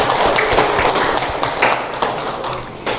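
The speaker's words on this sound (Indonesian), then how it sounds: "beri aplaus untuk semuanya" Classroom audience applauding, a dense burst of hand claps that starts loud and slowly fades over a few seconds.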